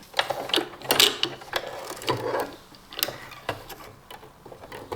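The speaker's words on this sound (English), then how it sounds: "place the bobbin into the machine" Small mechanical clicks and plastic taps repeat irregularly at close range, like a bobbin being fitted into a sewing machine, with no talking.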